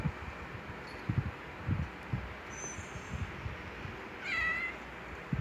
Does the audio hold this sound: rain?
no